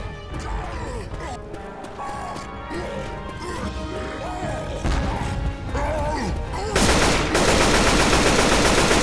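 Gunfire in the video game Left 4 Dead 2, rapid bursts of shots and crashing impacts amid game music and effects, turning into a dense, loud barrage near the end.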